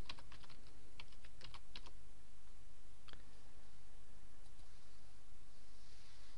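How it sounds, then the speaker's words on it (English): Typing a website address on a computer keyboard, heard as a quick burst of light key clicks followed by a single click, close and faint over a steady background hum, with no speech. "We type in time.com"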